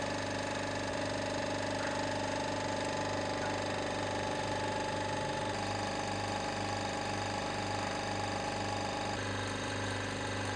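Vacuum pump running steadily while hydrazine sulfate precipitate is filtered, a continuous close mechanical drone with a low pulsing hum and no voices.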